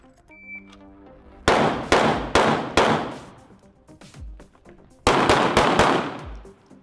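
Gunshots from a shooting drill: four sharp, loud reports in an even rhythm, a pause of about two seconds, then a rapid string of five more shots, each ringing briefly before the next.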